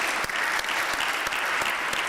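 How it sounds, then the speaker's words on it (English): An audience applauds a panel at a conference, producing a steady, full round of clapping throughout. "I kindly invite you all to applaud the distinguished panel members."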